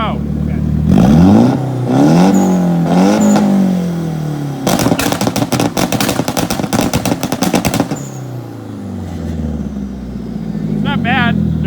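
A Nissan 180 car engine revs hard and bounces off a two-step launch limiter, sharp machine-gun-like pops and crackles firing in a rapid burst between rising and falling revs, loud and close, with people talking around it.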